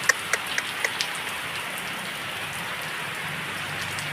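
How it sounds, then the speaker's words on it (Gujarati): Rain falls steadily in a village, a continuous even hiss of drops on surfaces with a few sharp drips at the start. The sound is close and fairly soft, and no voices are heard. "વરસાદ તરત આવી જ જાય"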